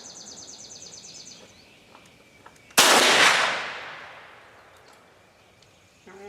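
A single loud rifle shot firing a 270-grain bullet, a sharp close crack followed by a long rolling echo that fades over several seconds outdoors.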